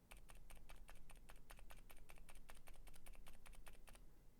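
Durock Daybreak silent switches are pressed on a keyboard, making a fast, even run of soft, muted key clicks close to the mic that continues without a break and with no voices.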